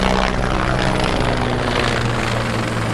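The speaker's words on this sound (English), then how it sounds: "Had a lot of helicopters going over here" Right after Hurricane Ian, a helicopter flies overhead with a loud, steady rotor thrum and engine drone that stays constant and close from start to finish.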